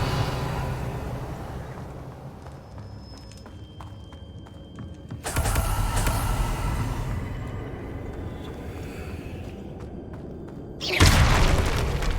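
Confringo fire spell blasts in the video game Hogwarts Legacy: two sudden booming impacts, spaced several seconds apart, each a loud crackling burst that stands out over a quieter ambient game background.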